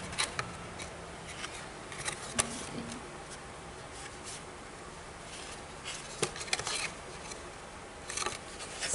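Scissors snip through gift box material in short, irregular cuts, with a few sharper clicks spread across the stretch, close but fairly quiet against a soft background hiss.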